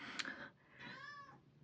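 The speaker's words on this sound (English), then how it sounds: "Every time I do a video, my cats meow." A cat gives a drawn-out meow close by, preceded by a short squeaky sound, fairly quiet overall.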